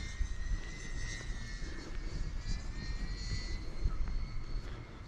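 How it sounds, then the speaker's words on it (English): A drone flies overhead outdoors in Oregon, a steady high whine with wavering tones above a constant rumble of wind and ambient noise. "So I was filming a drone."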